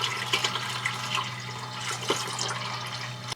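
Water running from a pipe to fill a water filter at an off-grid homestead, a steady close rushing and splashing flow with a constant low hum underneath.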